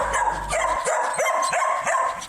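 Four abandoned puppies left in an empty house yelp, bark and whimper in a steady, overlapping chorus, close and loud, with no talking.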